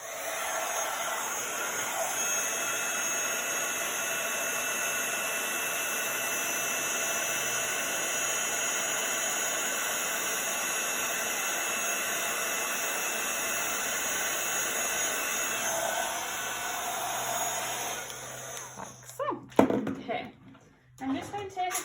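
Steady whooshing blast of a heat tool melting polished gold superfine embossing powder on a card, loud and continuous for about eighteen seconds before cutting off, followed by brief handling noises.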